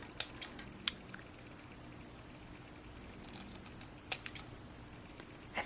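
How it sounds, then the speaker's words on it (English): Cardstock for a handmade card being trimmed, heard as a few sharp, sparse clicks and snips separated by quiet stretches, close and faint. "And then we will trim up the top."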